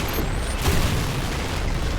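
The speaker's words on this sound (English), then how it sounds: "so enemies that die to it explode" Explosive bursts as enemies blow apart from rifle shots in the GZDoom God Complex mod, a rumbling boom with a noisy tail, loud and close, no voices.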